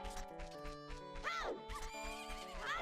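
A horse whinnies twice in The Legend of Zelda: Majora's Mask, each call a rising and falling neigh heard clearly over a steady layered game music backdrop with no talking.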